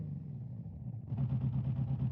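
Rotary-sounding car engine in the Automation game, a steady low hum that steps up abruptly into a louder, buzzier rev partway through, heard alone.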